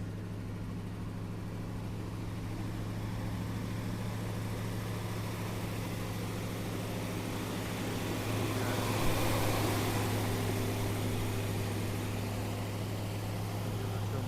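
A Mercedes W126 500 SE V8 with a muffler delete idles after a cold start, a steady loud rumbling drone with a fast high idle that deepens slightly partway through, close and without talk.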